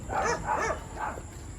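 A dog barks a few times close by, short gruff yaps in quick succession with steady background noise.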